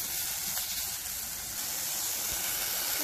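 Chicken and garlic sizzle loudly in a pan as they are stirred together, a steady close hiss that fills the whole stretch with no voices.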